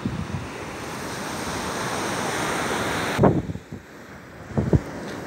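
Surf and wind on a Baltic Sea beach near Zelenogradsk, a steady broadband wash of waves with wind buffeting the microphone, then quieter moments broken by a few sharp gusts or nearby thumps.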